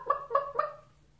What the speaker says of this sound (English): A chicken, a little hen.